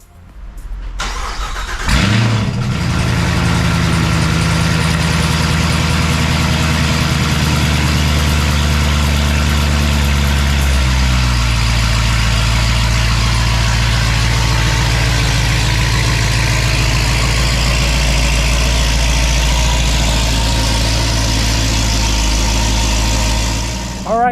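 Chevrolet Corvette C7 ZR1 supercharged V8 starting up, then a loud, steady low rumble as it idles and runs from inside the cabin, with a voice talking briefly over it.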